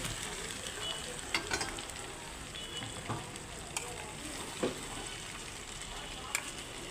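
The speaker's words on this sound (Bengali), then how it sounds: "এখন আমি আলু ডিম দিয়ে আরেকটু নেড়ে চেড়ে নেবো" Fried potatoes and eggs sizzling in masala in a pan while being stirred, a steady soft frying hiss with occasional clinks from the spoon.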